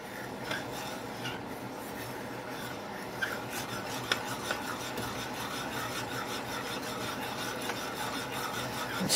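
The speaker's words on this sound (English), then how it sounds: "And stirring for any lumps." A batter mixture with vanilla stirred in a bowl, giving a steady close scraping and rubbing with a few small clinks of the utensil against the dish.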